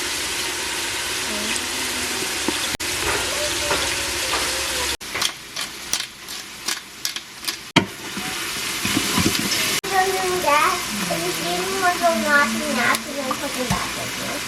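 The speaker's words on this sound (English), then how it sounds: "Alright, that's all sauteed up." Tomato paste from a small 6-ounce can sautéing in a pan with soft sizzling and a few stirring scrapes, while someone talks over most of it.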